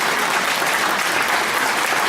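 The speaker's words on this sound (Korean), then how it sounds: "뜨거운 박수 한번 부탁드리겠습니다" An audience at a lecture event applauds warmly, with loud, dense, continuous clapping filling the whole moment.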